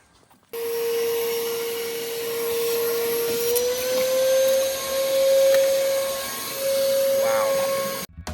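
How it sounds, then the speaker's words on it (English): A vacuum cleaner runs steadily with a loud, sustained whine whose pitch rises slightly midway, starting abruptly after a brief quiet moment. "This vacuum is amazing"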